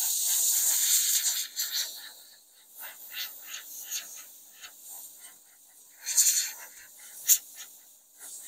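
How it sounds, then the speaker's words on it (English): Bursts of canned air spray against an 8-inch Shugart floppy drive under repair: short, close hissing puffs of varying length, with quieter gaps between them. "Use a little bit of canned air to get that off of there."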